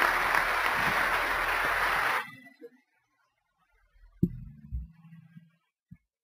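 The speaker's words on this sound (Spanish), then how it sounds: "así que por supuesto que le vamos a dar un cálido aplauso, ¿sí?" A church congregation at a Saturday morning rally gives loud, steady applause that stops abruptly. A few faint thumps and a brief voice follow in near silence.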